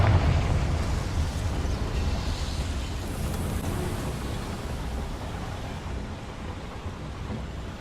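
A Confringo spell explosion in the video game Hogwarts Legacy, heard as a heavy boom at the start that decays into a long, rumbling, thunder-like roar slowly fading away.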